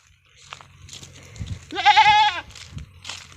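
A goat bleats once, loud and close, a wavering cry lasting about half a second, with softer animal shuffling and faint background noise before and after.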